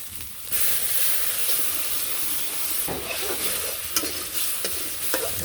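Turmeric, chili and five-spice mix frying in a pan, a strong continuous hissing sizzle with occasional clinks of stirring, loud and close with no talk over it.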